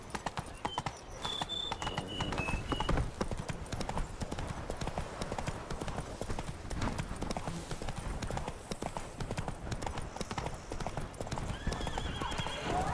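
A horse ridden in The Witcher 3 clip-clops in a steady rhythmic trot, hooves close and clear, with a brief neigh near the start and faint game ambience underneath.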